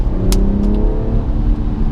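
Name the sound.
BMW 340i engine revving while accelerating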